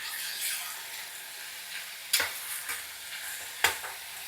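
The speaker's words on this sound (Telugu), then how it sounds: "కీమా కూడా వేసేద్దాం. ఇవన్నీ కలిపి వేగుతాయి అన్నమాట." Chicken keema frying in a pan for brown rice biryani, a soft steady sizzle with a few sharp scraping stirs, two of them louder, and no talk.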